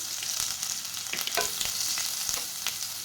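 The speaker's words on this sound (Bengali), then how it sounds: "চিকেন ভাজার তেলের মধ্যে দিয়ে দিলাম একটুখানি রসুন" A little garlic goes into hot oil left over from frying chicken for a chicken roast, giving a moderate close sizzle broken by several scraping stirs of a spatula.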